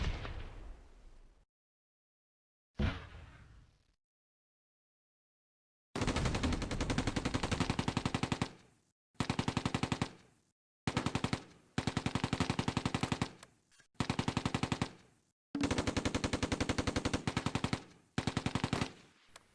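Sustained machine-gun fire from a German Mark IV tank in the Close Combat wargame, set south of a canal among sand dunes at Schijndel, after two short faint noises: long rattling bursts separated by brief pauses, loud and close, with no voices.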